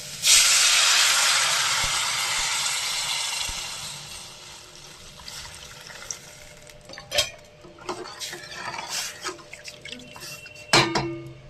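Water poured into a hot pan for a Bengali bhola fish curry gives a loud, steady hiss that slowly fades over several seconds, followed by scattered stirring and utensil clinks against the pan.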